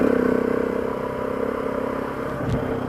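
A KTM 690 or Husqvarna 701 single-cylinder motorcycle engine runs close by, a fast pulsing chug that settles into a steady drone with a brief clattery bump near the end, and no voices.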